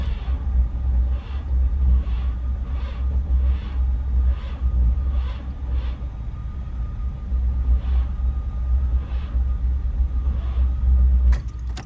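A car engine idles with the clutch pressed in, giving a steady close low rumble broken by faint, regular ticking pulses, then a brief sharp click near the end.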